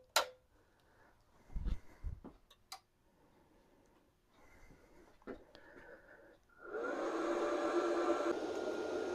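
A Bestarc MIG 145 Gen 7 welder is switched on after a few soft clicks and handling sounds, then its cooling fan hums steadily and fairly quietly to the end.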